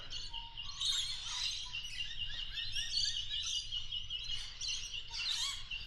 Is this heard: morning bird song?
yes